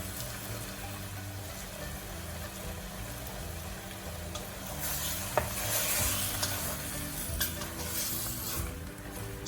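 Squid adobo simmering uncovered in a pan produces a steady bubbling sizzle, with occasional clicks and a brighter burst of hissing partway through, and no talking.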